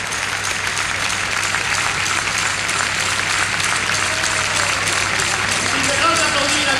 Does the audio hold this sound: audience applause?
yes